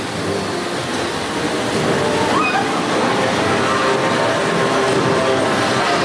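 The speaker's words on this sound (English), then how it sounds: "Nice waterfall when you come in." Steady roar of a waterfall at the entrance to the Minecart Madness ride in Epic Universe, a constant broadband rush of falling water with faint crowd noise mixed in.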